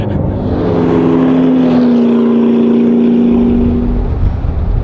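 A McLaren sports car engine pulls hard with a loud, sustained droning roar whose pitch climbs slightly and then holds, dominating the sound without any speech.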